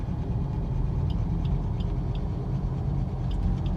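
A car engine accelerates in second gear, giving a steady mid-range rumble with road noise throughout at fairly constant loudness.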